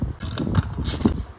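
Ratchet work on 5mm machine screws holding the side derby cover of an Indian Chieftain motorcycle, a few quick close clicking pawl strokes in rapid rhythm.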